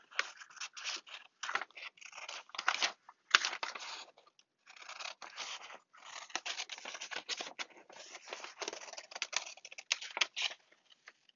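Scissors cutting out a paper wall pocket template, a run of close, crisp snipping and rustling bursts with short pauses between cuts.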